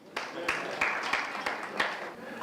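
A room of shareholders claps at a company meeting, a moderate, steady patter of many hands lasting throughout, slightly distant with sharper individual claps standing out.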